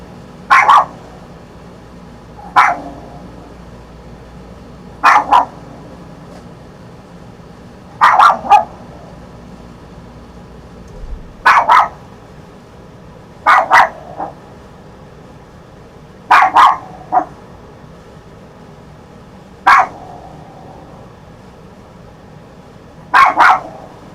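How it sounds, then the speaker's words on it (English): A single dog barks repeatedly in short bursts of one to three barks, spaced every few seconds, fairly loud and close, over a low steady room hum and no talking. "going to listen to you bark, and neither is anyone else"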